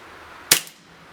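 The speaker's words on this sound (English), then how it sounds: "we're going to shoot 8 rounds through this chronograph and see what the real world feet per second rating is on this BB shooter" A single sharp shot from a KWC Tanfoglio Witness 1911 CO2 BB pistol, a short loud crack with a quick hiss of gas tailing off, close and alone.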